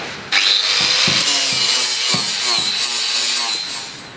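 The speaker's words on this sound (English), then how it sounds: "I can sand off all my old marks." A power sander works the crossbar of a tow bar, smoothing off old marks before welding, running as a loud, steady whine throughout with small rhythmic dips as the tool moves across the metal.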